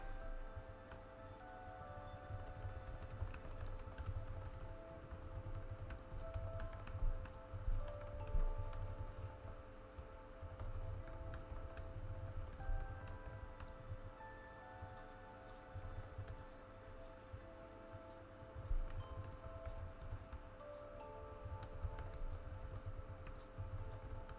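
Rapid typing on a computer keyboard fills the background with dense, continuous clicking and tapping, steady and fairly close, over a low hum, with no talking.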